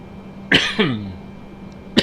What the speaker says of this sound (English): Another cough in your face there.